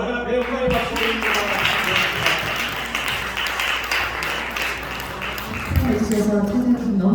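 Congregation clapping at a church ordination service, a moderate round of applause with scattered individual claps and voices mixed in, swelling again near the end.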